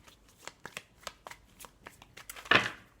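Small tarot cards are shuffled and handled up close, giving a series of soft flicks and riffles capped by a louder brief riffle near the end, with no talking.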